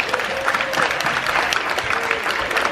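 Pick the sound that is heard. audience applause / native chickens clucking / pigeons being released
audience applause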